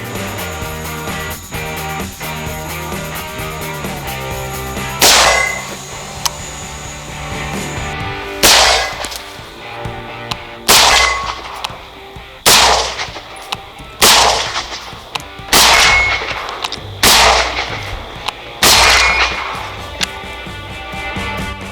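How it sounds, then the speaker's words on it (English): Gunshots striking steel targets: about nine sharp cracks at irregular intervals of one to two seconds, each with a short ringing tail, over a steady tonal background hum. "when we're shooting steel, quality or not, you're gonna get fragments coming off the steel"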